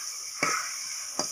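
Mutton yakhni pulao masala with garam masala sizzles steadily in the pot, a constant hiss broken by two brief stirring scrapes.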